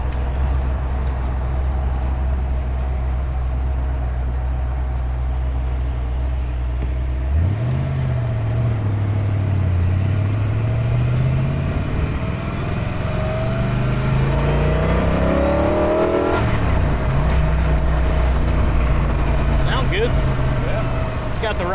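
An original Shelby Cobra car drones loudly while driving, then accelerates hard with rising revs through gear changes, a strong roar close by throughout.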